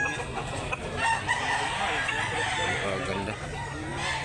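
Roosters and chickens cluck and crow amid the busy crowd noise of a poultry market in Mantalungon, Barili, Cebu, with someone speaking briefly over the dense background.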